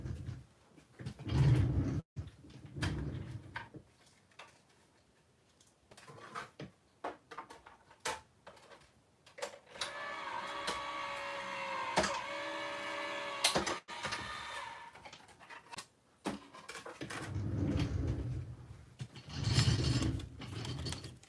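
A die-cutting or embossing machine for card making, feeding paper card pieces through with a steady mechanical whir, gear clicks and rattles, moderately loud and close, with handling thumps at the start and end and no talking.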